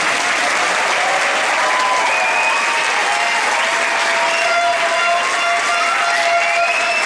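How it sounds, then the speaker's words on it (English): An audience at a Disney Proms concert gives a band a sustained round of applause, dense and steady clapping filling the hall for several seconds. "I wanted to give them a special round of applause."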